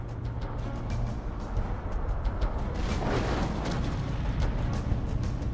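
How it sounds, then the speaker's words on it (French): Deep, heavy rumbling booms from the Krakatoa volcano's eruption roll on continuously, loud and low like distant massive explosions, with a swelling surge partway through. "une série de quatre explosions assourdissantes enveloppe les îles."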